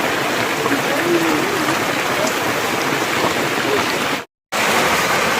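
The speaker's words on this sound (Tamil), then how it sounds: "மழை பெய்கிறனால ஒதுங்கி நிற்கிறோம்" Heavy rain pours steadily along the Sabarimala pilgrimage route from Erumeli toward Mukkuzhi, a dense, close hiss of downpour that cuts out briefly before resuming.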